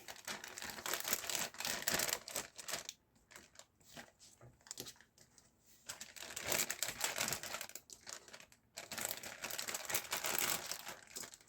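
Repeated crinkling and rustling of plastic in bursts with short pauses, close by, as rolled cabbage leaves are packed into plastic bags.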